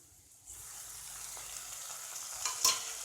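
Onions and tomatoes sautéing in a pan for podi idli fry give a soft, steady hiss that rises after a quiet start, with a brief louder splash of sizzle near the end.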